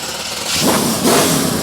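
A Daihatsu Mira street car racing a V8 Supercar: a short, loud burst of engine roar swells twice in quick succession, broad and raspy.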